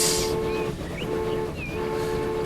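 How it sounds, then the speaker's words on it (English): Train pulling out of a station in the Transport Fever video game, a steady rumbling rolling drone with sustained tones and a few short whistle-like glides over it, no talking. "now we're leaving the station, heading for Everett."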